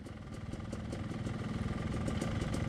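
A Yamaha YZ250X dirt bike engine idles steadily nearby with a low, even chugging rumble that holds throughout without revving.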